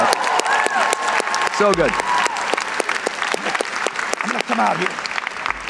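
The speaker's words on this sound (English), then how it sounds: "Give him a round of applause." Applause and scattered cheering from an audience at a motivational talk for a man named Jeff, with a voice speaking briefly over the clapping throughout.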